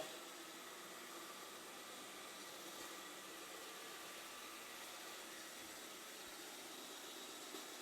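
Tefal X-Plorer S240+ AI robot vacuum cleaner running, a steady, even broadband whir and hiss that holds at a constant level throughout without pauses or talk.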